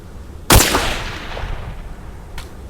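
Sniper rifle fire in a shooting video game: one sharp, loud report with a decaying tail, followed about two seconds later by a fainter single shot.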